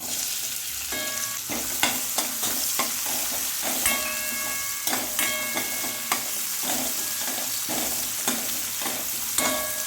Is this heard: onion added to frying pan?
yes